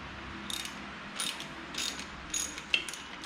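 A ratchet wrench loosening a bolt on a 2008 Honda VTX 1300 motorcycle during fork and head bearing service, making a few short quiet clicking bursts in a regular rhythm, close by with no speech.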